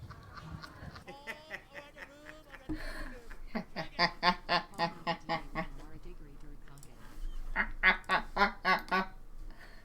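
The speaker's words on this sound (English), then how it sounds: "someone linked me to a video of a duck laughing." A duck quacks in quick bursts of rapid, laughter-like calls, played back from a clip in fairly close, repeated volleys with short pauses between them.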